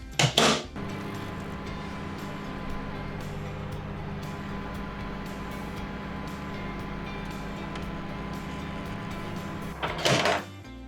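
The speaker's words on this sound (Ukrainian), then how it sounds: "Я в мікроволновку його пну швиденько." Microwave oven melting butter: a door clunk and beep at the start, then a steady low hum with a faint whirring drone for several seconds, ending in another door clatter, no talk.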